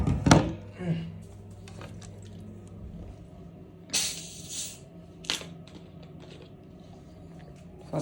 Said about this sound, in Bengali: পেপসিটাকে ওপেন করে নিব।